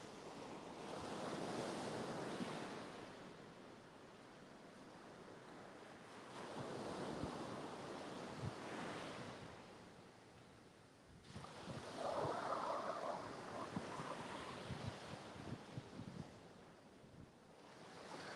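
Ocean surf rolls up onto Panama City beach in slow, swelling waves, each surge rising and fading over several seconds, with wind buffeting the microphone and no voices.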